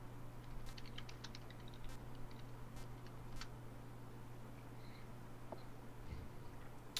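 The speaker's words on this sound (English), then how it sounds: "I can hear someone tapping away at a keyboard there." Someone types on a computer keyboard in a room, faint scattered clicks over a low steady hum, while a Metal Gear Solid 3 game plays quietly.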